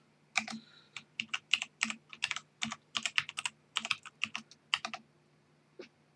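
Fingers tap out a short login on a computer keyboard during an Arch Linux installation, giving quick bursts of crisp, close key clicks in small rhythmic groups with brief pauses and no talking.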